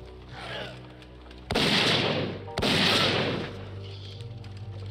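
Gunfire from shooting enemies in the PC game Zeno Clash: two loud, sustained blasts of shots, each lasting about a second, close and dominant over a quieter background.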